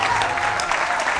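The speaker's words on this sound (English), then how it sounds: "How about a fine round of applause for our fine contestants tonight?" A live audience applauds contestants at a Packers clubhouse event, steady overlapping clapping at moderate loudness with no speech on top.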